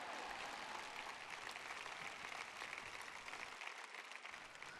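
Audience applause at a Joyce Meyer talk, steady dense clapping from a crowd filling the hall, sustained and even throughout without voices on top.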